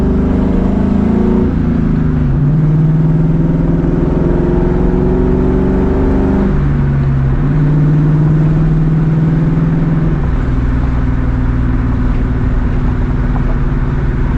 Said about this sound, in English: The raw engine sounds.